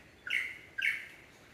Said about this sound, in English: Lyrebird, mimicking every other bird in the high country.